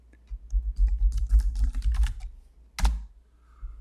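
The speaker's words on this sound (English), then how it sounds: "We can just type it in or just can highlight, but I should have typed it in." Rapid clatter of keys on a computer keyboard while filling in an Excel spreadsheet, a dense run of close clicks for about two seconds, a pause, then a sharper burst near the end.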